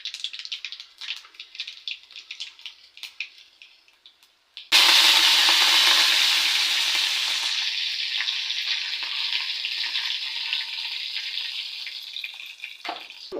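Mustard and cumin seeds hit hot oil for a tomato rasam, setting off a sudden loud, crackling sizzle that holds steady and slowly eases, after a few quieter clinks and stirs beforehand.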